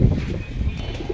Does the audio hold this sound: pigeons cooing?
yes